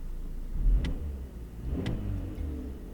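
A 2003 BMW 318i Touring M-Sport idles with a low steady hum, softly rising once, while two faint ticks sound over it; no one speaks.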